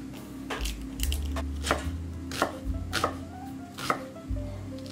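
A kitchen knife chops onions and shallots into rough rings on a board, producing about eight crisp, evenly spaced thuds close by, with a low steady hum underneath and no talking.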